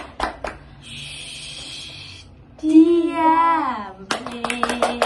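A classroom round of the tepuk diam clapping game, with a few sharp hand claps at the start and a rapid run of claps at the end, separated by a sung or chanted voice.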